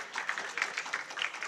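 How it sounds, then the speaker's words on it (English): Brief burst of scattered hand clapping from a small crowd at an indie game showcase in Prague, fairly quiet and evenly sustained. "I think you deserve a short, spontaneous clap of hands."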